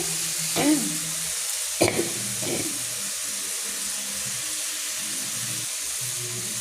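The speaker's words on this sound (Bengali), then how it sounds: "দেখো এদিকে মশলাটা তুলে দিয়েছি এটা কষা হোক" Spices fry with a steady hiss and crackle in a hot pan for a fish curry, broken by a couple of brief stirring knocks near the start.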